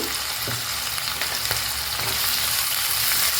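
Onions sautéing in a pan on medium flame with salt and turmeric, a steady close sizzle with occasional stirring scrapes and no voices.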